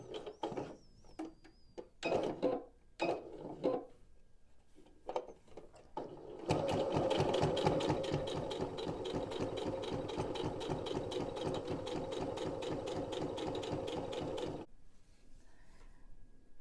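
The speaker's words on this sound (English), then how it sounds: "I'm going to sew from here and start with the back tack" Domestic sewing machine stitching a fabric corner bookmark with a back tack, first a few short bursts, then a steady, fast, close mechanical whirr that runs for about eight seconds before stopping.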